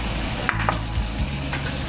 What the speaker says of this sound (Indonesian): Lalu masukkan di sini terong gorengnya.